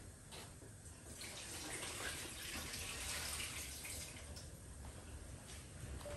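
Tap water runs steadily into a sink while plantains are rinsed for Haitian plantain porridge, a continuous broadband wash with slight surges, close and alone without talk.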